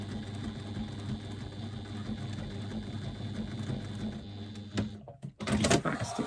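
Sewing machine back stitching a seam on a press bag, a steady close mechanical whir running for several seconds before stopping, followed by brief handling clatter.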